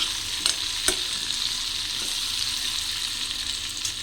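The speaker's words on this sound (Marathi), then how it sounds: "व्यवस्थित त्याची तोंडली तेलावर मस्तपैकी फ्राय करून घ्यायची" Ivy gourd (tondli) frying in oil over low heat, producing a steady close sizzle with a few soft stirring clicks and no talking.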